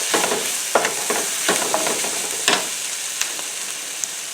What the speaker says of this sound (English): just keep stirring those peppers and onions so we can get them nice and soft